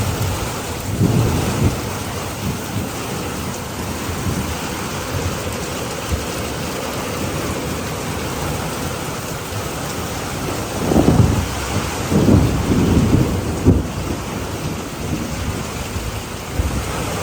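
A thunderstorm in New York brings steady heavy rain hissing on surfaces. Low thunder rumbles run beneath it, with deeper rolling peals swelling later on.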